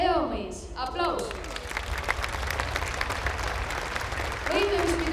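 Audience applause fills a stadium at a gymnastics festival, a dense wash of clapping heard at a distance, with a voice speaking over it at the start and again near the end.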